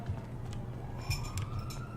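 A police siren in a video game wails faintly, its rising and falling tone sitting under low engine rumble and brief clatter. There is no talk over it.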